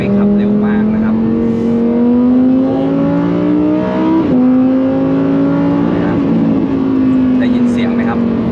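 Lamborghini Huracan STO engine on a race track in the rain, heard from inside as a loud, steady droning note that climbs gradually, dips briefly near the middle, then resumes its rise, with no pause throughout.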